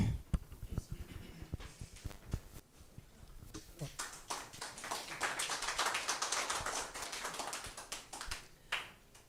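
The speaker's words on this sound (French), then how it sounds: "Merci pour la salve d'applaudissements à l'endroit du présentateur" Audience at a business presentation applauding, sparse individual claps at first building into a fuller round of clapping, then tapering off near the end.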